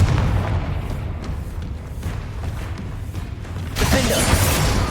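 Confringo blasting spell explosions in Hogwarts Legacy, a string of booming blasts and crackling bursts over a rumbling backdrop, swelling into a louder, brighter detonation near the end, with no speech.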